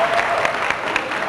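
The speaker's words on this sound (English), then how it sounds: "How about a round of applause?" A round of applause from a small group on a home movie set, brief steady clapping at close range.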